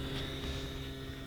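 Durafly HobbyKing Goblin Racer RC plane making a low-throttle pass, a steady nearby propeller drone and whine holding level throughout with no voices.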